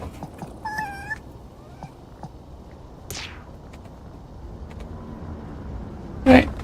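Kittens meow in a video game played on a PS5 Pro: a bright, wavering meow early on, then a sharper, louder cry near the end over a steady murmur of game sound.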